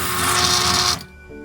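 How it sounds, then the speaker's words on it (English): A drill press bores a hole, a steady loud mechanical whir that cuts off abruptly after about a second, leaving a quieter motor hum and faint residual tones. "I like to use the drill press because it makes me more accurate."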